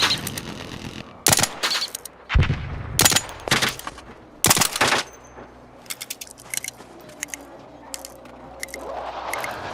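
Energy weapon fire in the video game Arc Raiders, sharp loud bursts arriving in irregular clusters over the first half, then scattered fainter clicks and blips over a low background hum.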